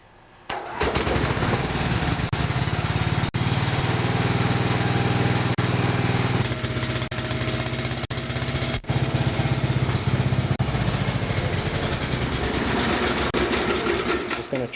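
A Gravely tractor with a 16HP Briggs & Stratton engine catches after about a second, then runs loud and steady with a rough, rattling mechanical drone that carries on without letup.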